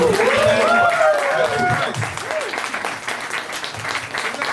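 An audience at a comedy show in a craft brewery claps and cheers loudly at first, the applause tapering off while a voice whoops and talks over it.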